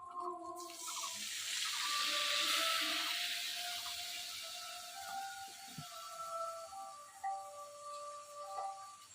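Water poured into a cooking pot holding fried eggs and fried onions while preparing Bengali egg posto in a village kitchen: a loud rushing pour that swells over the first few seconds, then tapers into quieter trickling and clinks.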